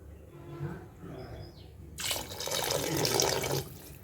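Water gushes steadily into a cooking pan, a loud broadband rush starting midway and continuing to the end.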